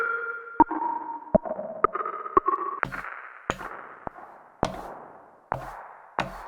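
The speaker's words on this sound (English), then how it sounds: "you can hear it's broken it up into its individual reflections." Reverb on a Roland S-1 synth with density turned up, breaking into distinct reflections: sharp clicky hits repeat at slowing intervals over fading tonal tails, close and clear with no talk.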